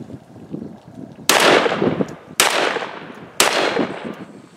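A Beretta A300 Ultima Patrol 12 gauge shotgun fires Federal Field and Target loads: three loud, sharp blasts about a second apart, each trailing off in a long fading decay.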